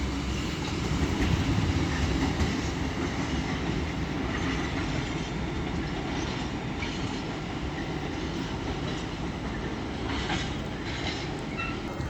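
A train passing through Doncaster station on the East Coast Main Line, a steady loud rumble of wheels and rolling stock lasting throughout, close by with no talking.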